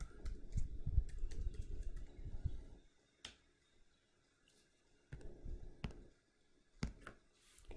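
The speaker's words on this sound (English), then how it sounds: "I keep forgetting to click on the calculator before I start typing on the keypad." Numbers tapped on a computer keypad come as quick, light clicking bursts separated by quiet gaps, with a few isolated sharper taps, heard close and fairly soft without talk.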